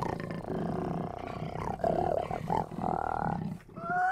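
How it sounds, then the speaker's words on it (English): Big cat roar standing in for a jaguar, a sustained growling roar with rising and falling tonal swells across several seconds, loud and close, with no talk over it. "Can we get a quick Jaguar sound?"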